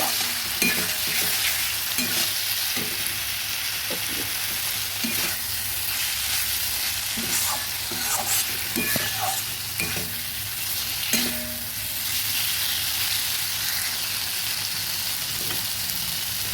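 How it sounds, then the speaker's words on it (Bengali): Potatoes fry in a pan for a fish curry, giving a steady loud sizzle with intermittent scraping as they are stirred, and no voices. "আলুগুলো ভাজা হয়ে গেছে"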